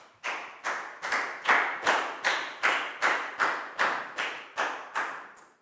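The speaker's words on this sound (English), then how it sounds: "Big round of applause for Chu," Year 4 students in a classroom clap for a classmate named Chu in a steady, evenly spaced rhythm of about twelve loud claps, each with a short echoing decay.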